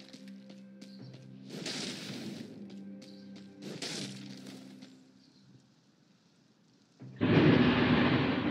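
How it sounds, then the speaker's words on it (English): Deep rolling rumbles of thunder swell twice, then a burst of heavy rain noise hits near the end, mixed with game sounds and beeps. "Thunderstorm right now."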